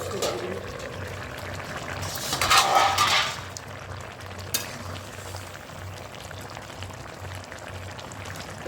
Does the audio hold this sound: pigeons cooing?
no